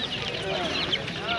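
Brahma chickens at a market cluck and murmur in a steady, busy mix, with no single call standing out above the others.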